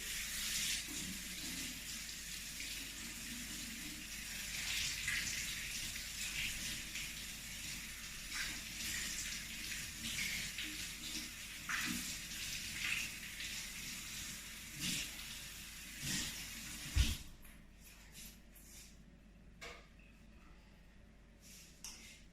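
Running tap water splashes over food being washed in a kitchen sink, a steady faint hiss with small bursts and clatters before it cuts off near the end.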